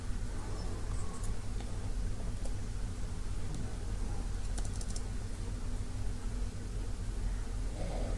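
Keys clatter in quick, uneven bursts as a SQL query is typed on a computer keyboard. The typing is faint and sits under a steady hiss of background noise.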